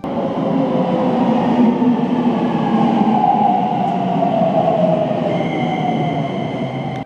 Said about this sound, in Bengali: ওমরিমাচি থেকে লোকাল ট্রেন ধরলাম সিনাগাবা স্টেশনের জন্য